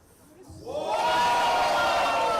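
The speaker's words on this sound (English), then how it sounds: "Draws the applause of the crowd." A squash match crowd's noise swells up quickly into sustained applause and cheering after a brilliant forehand, loud and close, filling the space after a brief quiet start.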